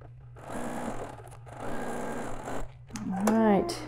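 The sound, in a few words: sewing machine stitching quilt block fabric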